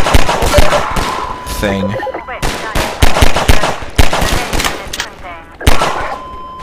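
Rapid gunfire from Half-Life 2 cracks in loud, repeated shots and short bursts throughout, with someone talking over it and a brief whirring game sound in the middle.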